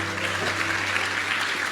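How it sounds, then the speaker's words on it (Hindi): Loud, continuous applause from a seated audience at an organisation's event in India, a dense steady clapping that fills the whole stretch without pause, with a low electrical hum underneath. "एक बार जोरदार ताली होनी चाहिए"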